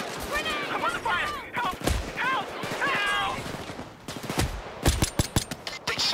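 Gunfire in Payday rings out during a heist shootout, scattered shots and bursts with a cluster of sharp cracks near the end, mixed with frantic shouting voices.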